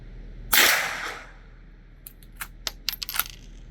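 A suppressed .22 LR rifle fires supersonic CCI Mini Mag rounds: one sharp, loud crack followed by a fading tail, then a scatter of quieter metallic clicks and taps close by.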